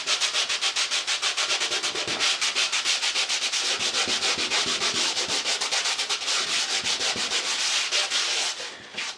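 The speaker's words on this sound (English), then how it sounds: "I'm going to use a piece of sandpaper here, and this is 80 grit sandpaper" Rhythmic hand sanding of a drywall patch with 80-grit sandpaper, quick back-and-forth scratchy strokes repeating evenly and close up, with no talking.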